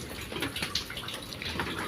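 Water is poured into a pan of rava kesari cooking over low heat, a soft continuous splashing and trickling with light bubbling, fairly faint and steady throughout.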